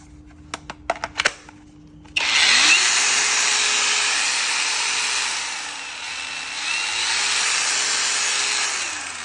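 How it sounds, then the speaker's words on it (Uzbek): A few clicks, then a four-speed Makita angle grinder spins up and runs with a loud, steady high whine, its pitch dipping and rising as it's revved, close by. "Naq 4 xil skorda ishlar ekan mana bolgarkasi"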